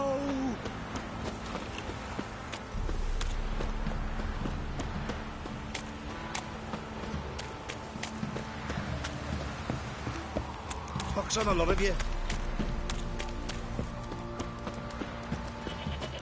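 Horse hooves clip-clopping at a steady trot in the video game The Witcher 3, moderately close and continuous, with game voices talking over them.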